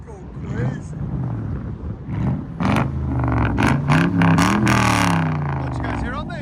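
Lexus LS430 4.3L V8 with straight-piped true dual exhaust revs up and down with a raw, rough roar, while people talk over it close by.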